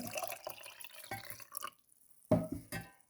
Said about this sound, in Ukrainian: Знову заливаємо гарячою водою